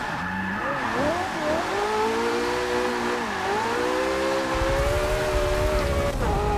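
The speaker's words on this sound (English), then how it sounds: "let's try and get another good hairpin drift here." A hypercar such as a Ferrari LaFerrari, Porsche 918 or McLaren P1 drifts through a hairpin in Forza Motorsport 6. The engine revs rise and fall loudly while the tires squeal steadily throughout. No one talks.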